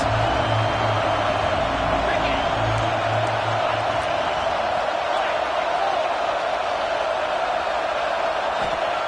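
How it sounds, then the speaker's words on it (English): Football stadium crowd roaring for the defense on a big third down in the red zone during an Oklahoma at Notre Dame game, a loud continuous wash of cheering with talk over it early on. "this crowd is getting behind this defense"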